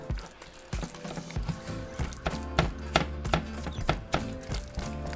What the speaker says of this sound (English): So just mix it all together.